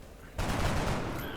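Gunfire from the video game X-Com Enemy Unknown: a sudden loud burst of shots erupts after a quiet stretch and rings on as a dense, sustained volley.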